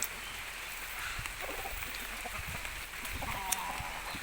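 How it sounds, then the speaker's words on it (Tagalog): Steady rain patters down on a Philippine farm in a constant soft wash with occasional drips, while someone speaks briefly over it. "Maulan mga kapatid"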